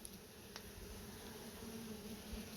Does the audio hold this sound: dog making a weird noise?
no